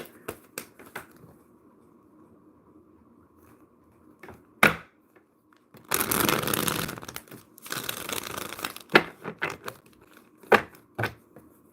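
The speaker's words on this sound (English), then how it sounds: "I'm gonna do one more shuffle" Tarot cards being shuffled by hand, with a few sharp snaps and taps early on, then two longer bursts of riffling and crinkling card noise, followed by scattered clicks and flicks close to the microphone.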